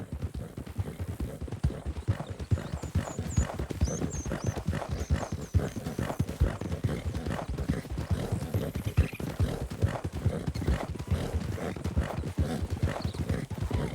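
Steady, rhythmic horse hoofbeats from the video game Red Dead Redemption 2 clip-clop continuously at a brisk pace, with faint chirping birds and an occasional horse snort in the background.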